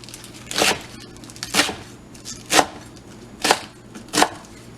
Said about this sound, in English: cut them in half